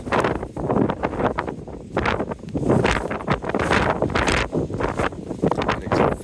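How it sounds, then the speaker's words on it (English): Strong wind buffets the microphone in heavy, continuous gusts, loud and roaring throughout with no talking, at the Callanish Standing Stones on the Isle of Lewis, Scotland. "Very, very windy."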